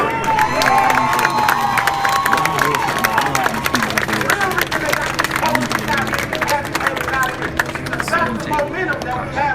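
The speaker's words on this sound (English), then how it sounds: "give yourselves a round of applause out here" Crowd at a live event in Dallas applauding and cheering, with shouts and whoops over continuous clapping and a busy, loud murmur of voices throughout.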